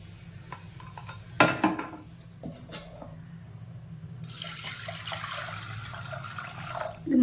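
Water is poured into a cooking pot holding lentils, shallots and garlic for a drumstick-leaf dal curry, a soft, steady rush at low volume with a few clinks of utensils against the pot.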